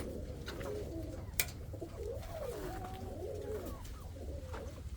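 Frillback pigeons coo outside in soft, low, rolling calls that repeat over a constant background hum, with one sharp click early on.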